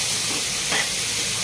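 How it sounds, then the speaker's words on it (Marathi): Grated paneer fries in a pan with a steady, close sizzling hiss that briefly swells in the middle. "त्यानंतर टाकायचं हे ग्रेट केलेलं पनीर. परत फ्राय करायचं"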